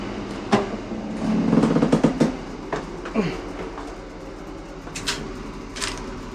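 Interior of a moving train in Vietnam, travelling from Hanoi to Ninh Binh: a continuous low rumble with scattered metallic clanks and knocks from the carriage, with no voices.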